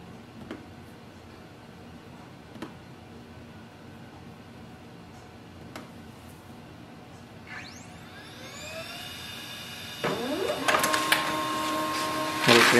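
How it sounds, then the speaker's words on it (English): A Pantum P2502W laser printer prints a page, building from soft clicks into a whirring mechanical rise and then a loud, rattling feed-and-print run at close range, with no talk over it. "The printer is working."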